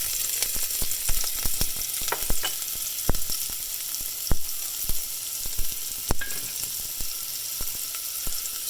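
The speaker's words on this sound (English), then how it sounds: "I already have my Dutch oven preheated. You should hear a little sizzle here." Steady sizzling and crackling of shrimp hitting a preheated Dutch oven, with sharp pops scattered throughout, fairly close and continuous with no talking.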